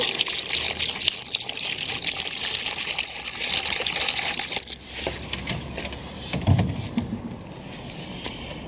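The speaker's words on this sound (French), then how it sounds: "Un peu d'eau." Water is poured into a paint basin with a gritty, splashing trickle that runs for several seconds, pauses briefly, then resumes more softly with a louder splash midway.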